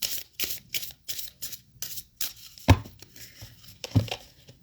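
Tarot cards being shuffled by hand, a series of quick riffling bursts and soft slaps in an irregular rhythm, close and crisp, with a couple of heavier thumps.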